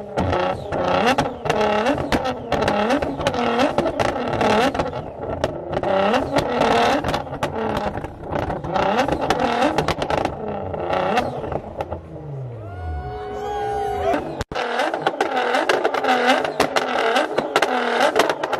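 A straight-piped BMW M4 G82 drives at a night BMW car meet in LA, its loud exhaust droning and revving continuously up close, with shifting engine tones and one brief sharp cut near the end.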